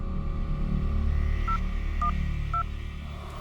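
Three short keypad tones beep in sequence as a phone number is typed on a phone, each tone brief and clear over a steady low hum of room noise.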